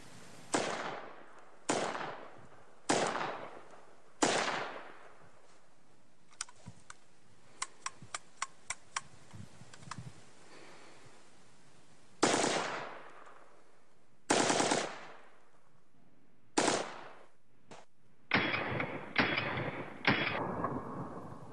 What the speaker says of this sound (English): I'd like to quickly show this weapon firing with the slide in it.